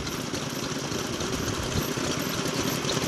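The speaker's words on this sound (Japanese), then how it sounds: "こちらはね、五穀 AE19、五穀 AE19 型の発動機です。" A Gokoku AE19 stationary farm engine built by Aichi Kikai, a 4-horsepower agricultural engine from around 1955 with a round hopper and twin rocker arms, runs steadily nearby with a continuous chugging idle and no talk.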